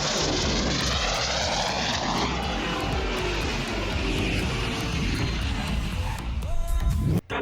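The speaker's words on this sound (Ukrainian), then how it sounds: "Заходь на приземлення. Смугу відкрито." A propeller airplane comes in to land on a runway, its engine drone loud and continuous throughout before a sudden break and jolt near the end.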